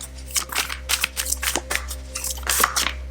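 Tarot cards being shuffled in quick bursts of soft slapping and riffling, close by, with a steady low hum underneath and no talking.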